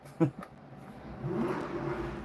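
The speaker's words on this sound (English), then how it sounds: "somebody's parked out the front, revving up a Porsche." A red Porsche engine rumbles and revs up outside in the distance, muffled as if heard from indoors, rising steadily after a brief noise at the start.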